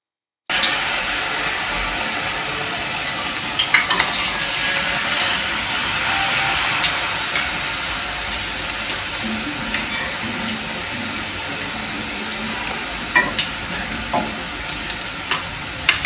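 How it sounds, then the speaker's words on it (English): Oil sizzles and crackles steadily as battered seaweed rolls fry in a pan over medium heat, with occasional sharp pops and light scraping, close and continuous. "I'm also frying this on a medium heat."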